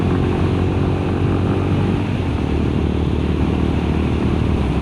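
A Honda GB350S motorcycle at full throttle climbing a steep uphill road, a loud, steady, continuous engine drone mixed with heavy wind rush, with no breaks.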